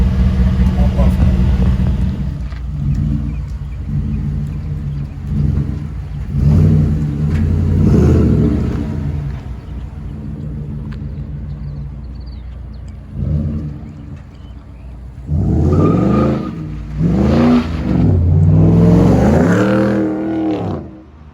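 A 2014 Ford F-150 FX2 with the 5.0 Coyote V8, muffler deleted and resonator still connected, revs in loud, deep bursts, rising sharply in the second half, with someone talking between pulls.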